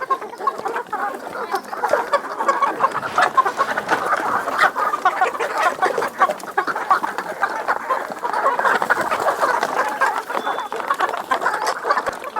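A backyard flock of chickens clucks and chatters steadily for a dozen seconds, dense overlapping calls close by with scattered pecks and scuffs at feeding time.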